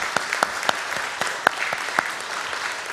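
A church congregation at a Sunday worship service claps steadily, a soft, even wash of applause with a few sharper individual claps standing out.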